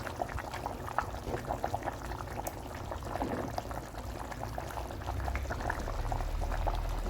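A pot of Moroccan couscous with meat bubbles at a steady, vigorous boil, releasing steam with a continuous close rolling gurgle and no voices over it.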